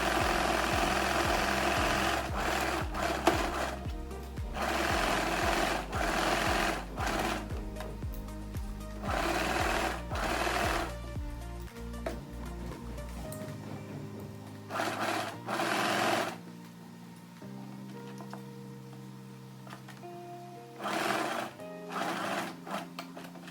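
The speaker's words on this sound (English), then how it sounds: "I'm going to stitch around the outer edge of my pocket bag" Sewing machine stitching around the outer edge of a pocket bag on a maxi dress, rapid mechanical stitching in repeated bursts separated by short pauses, close and loud, with a longer quiet stretch near the middle.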